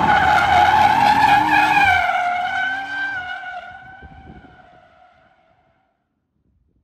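An Audi RS car drifts sideways through a corner, tires squealing loudly in a long sustained skid with engine tones, fading gradually over several seconds into silence.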